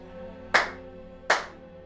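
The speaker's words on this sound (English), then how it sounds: "Clap for yourself." Two sharp claps about three-quarters of a second apart, crisp and close, over a faint steady background hum.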